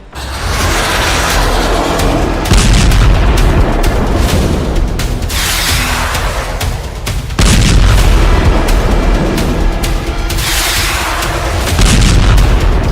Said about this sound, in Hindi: हिजबुल्लाह के ठिकानों पर हुई भयंकर बमबारी इसी ऑपरेशन का हिस्सा है।